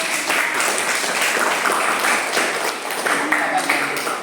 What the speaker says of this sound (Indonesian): kita ukur lagi tepuk tangan kepada kelompok 2 juga ya